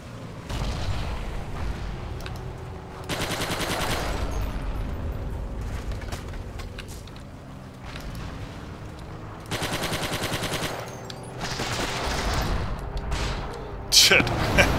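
Battle in the Forgotten Hope 2 video game: sustained bursts of gunfire and machine-gun rattle with booming artillery, dense and loud throughout, swelling in several heavy waves.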